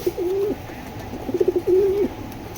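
Racing pigeons from the BRPL club coo close by, with two drawn-out coos and a few short throaty notes in between, over a low room hum.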